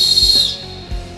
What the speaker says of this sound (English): To use the jet scream whistle, simply place your mouth over the opening and blow with force.